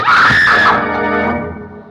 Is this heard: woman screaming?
yes